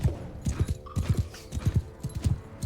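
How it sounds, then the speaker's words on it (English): Horse hooves clip-clopping in the Bannerlord video game battle, a steady galloping patter of close, repeated hoof strikes in quick rhythmic clusters, with faint battle noise behind. "Horses go right in front."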